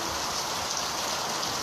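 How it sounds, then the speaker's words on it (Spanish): Steady rain falling outdoors, a dense continuous hiss of drops on surfaces, close and even in loudness with no talk. "Está lloviendo, pero gloria a Cristo."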